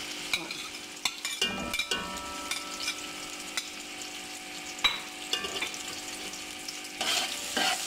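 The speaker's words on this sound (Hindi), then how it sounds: "अब हम इसमें डालेंगे प्याज, ये गर्म हुआ है ऑयल।" Hot oil sizzling steadily as onions fry, with occasional clinks and stirring scrapes from a utensil in the pan.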